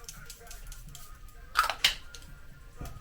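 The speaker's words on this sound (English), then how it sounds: "So I'm gonna spray this." Two quick hissing spritzes from a bottle of makeup setting spray, close up, separated by a short pause, with faint background noise.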